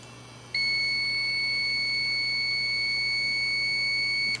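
A multimeter set to ohms beeps continuously while testing a lawn tractor fuse, one steady high-pitched tone that starts abruptly after a brief hum and holds to the end.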